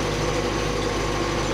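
An MTZ-80 tractor engine runs steadily while sowing soybeans with an SZ-3.6 seeder in a field, a loud continuous low drone with no talk.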